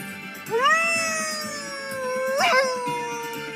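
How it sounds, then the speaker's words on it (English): Werewolf Sim in The Sims 4 video game letting out a long rising then sustained wavering howl, loud and close, with a second sharper swell near the end and light background game sounds. "he's got a howling problem right now"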